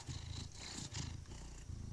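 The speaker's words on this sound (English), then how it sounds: "Just listen to that purr." Purring from a cat in the video game Cabernet: a steady, low rumbling purr with rhythmic pulses, fairly close and continuous throughout, with no talking.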